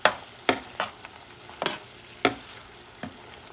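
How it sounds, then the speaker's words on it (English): Squid ink pasta sauce with squid, shrimp and scallops stirred in a pan, several sharp spoon scrapes at irregular intervals over a low sizzle, close, no voices. "And to mix things around and continue cooking"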